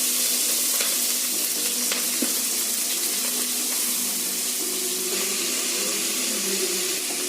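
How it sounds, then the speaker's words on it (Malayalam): Chopped onion and green chilli hit hot oil with dried red chillies and curry leaves, giving a loud, steady, dense sizzle and crackle that runs unbroken from start to finish, with a faint low hum beneath. "ഇനി അരിഞ്ഞു വെച്ച ഉള്ളിയും മുളകും ഇട്ട് കൊടുക്കാം."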